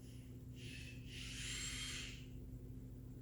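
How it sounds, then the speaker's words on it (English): Children run a power drill somewhere in the background of a home, giving two faint whirring bursts, a short one and then a longer one, over a steady low hum, with no talk. "I hear my kids playing with a drill."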